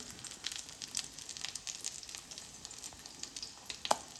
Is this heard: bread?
yes